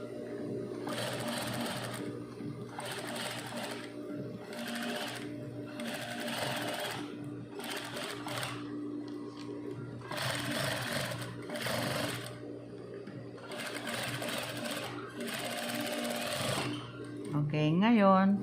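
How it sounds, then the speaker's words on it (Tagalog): Sewing machine stitching a shirt collar in repeated short runs with brief pauses between them, close and steady, under a low background hum. "tahiin natin si collar"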